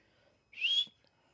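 A single short human whistle, rising then holding a bright steady tone for under half a second, clear against a quiet background.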